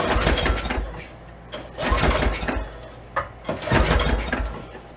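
A Beaver amphibious vehicle's small engine cranks repeatedly with no choke, giving rough, uneven churning bursts that sputter without catching into a steady run, close and loud.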